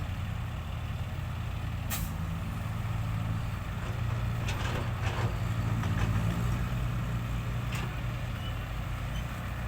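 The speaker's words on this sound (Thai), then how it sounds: "ฮิโนเมกาสีขาว" A white Hino Mega truck rumbles past with a steady, moderately loud engine drone, marked by several brief hissing bursts that sound like air brakes.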